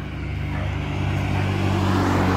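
A car approaches and passes by on a residential street, its engine rumble building steadily to a louder, closer peak toward the end, with no talk.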